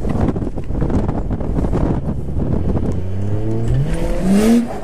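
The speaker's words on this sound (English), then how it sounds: "So give it gas, clutch in, out." Mazda RX8 drift car with a steady loud engine roar, then rising rev sweeps climbing in pitch as the clutch is kicked, ending in a sharp high rev burst, with some wind buffeting.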